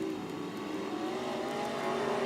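B Modified race cars roar around the oval at Springfield Raceway in a heat race, a continuous mid-distance engine drone with shifting pitch as the pack runs through a turn.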